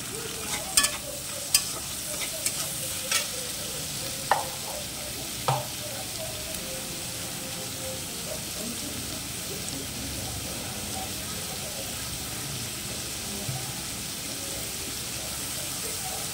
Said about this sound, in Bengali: এবার পেঁয়াজ কুচনো দিয়ে দেবে।